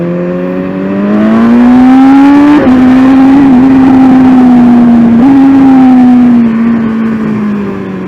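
A BMW S1000RR superbike engine pulls hard under throttle, its loud rising whine climbing through the gears with a sharp shift around the middle, then holding a high steady howl before easing off.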